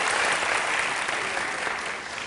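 Studio audience on a Turkish music television show breaks into brief, dense applause, steady and bright, fading slightly as it ends.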